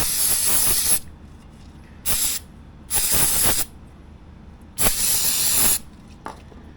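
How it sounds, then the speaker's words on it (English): Brake cleaner is sprayed onto a scooter brake disc in several close, sharp hissing bursts of varying length, separated by short quiet gaps. "It's brake cleaner."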